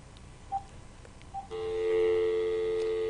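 A phone being answered gives two short beeps, then a steady, loud multi-pitched tone that holds to the end, played through a speaker.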